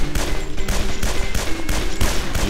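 Rapid bursts of gunfire from a gun in the zombie-shooting game Guns Gore and Cannoli, loud repeated shots in quick clusters over about two and a half seconds, with no talking.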